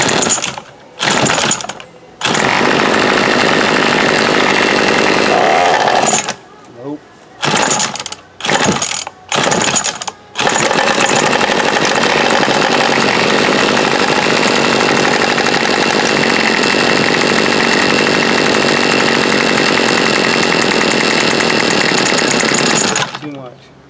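A Remington Rustler RM2510 chainsaw with a freshly adjusted carburetor revs loud and close. It sputters in short bursts at first, then holds a long, steady, high-pitched run.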